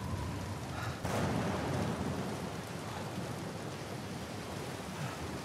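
Heavy rain pours steadily in the Uncharted video game, with a sharp thunder crack early on, then a dense, continuous downpour close and loud throughout.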